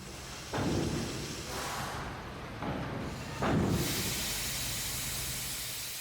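A pressurised steam engine from the early industrial era vents steam in a few strong, breathy hissing bursts that rise over a steady background roar, with dull thuds among them.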